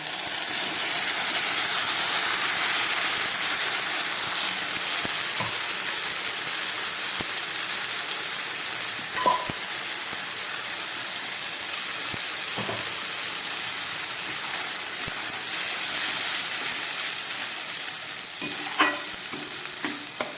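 Spice paste added to onion and capsicum frying in a pan for a rita and tengra fish dish, producing a strong continuous sizzle with occasional scraping stirs and light clinks, close and steady throughout with no voices.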